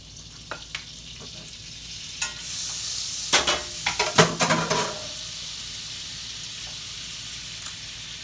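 Corn hoe cakes frying in a mix of oil and butter give a rising sizzle as batter is scooped into the pan, with scattered clinks of a utensil and a brief burst of loud crackling.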